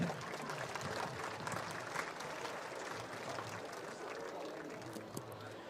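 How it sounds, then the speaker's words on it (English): Steady crowd applause at a Division III college football game fills the whole stretch, dense and sustained clapping from many hands at a distance, with a faint murmur of voices mixed in. "But a nice round of applause now for Jack Smith."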